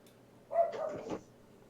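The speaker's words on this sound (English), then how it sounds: "That guard dog of yours is very active this morning" A female guard dog lets out a single short, muffled bark at a moderate distance, otherwise quiet.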